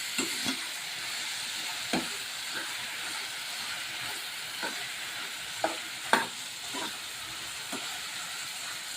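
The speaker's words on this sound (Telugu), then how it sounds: "ఇట్లా ఒకసారి బాగా కలుపుకోవాలి." Brinjal pieces stirred in a hot pan, a soft steady sizzle with occasional louder scrapes and knocks of the spoon at irregular intervals, fairly quiet and with no voices.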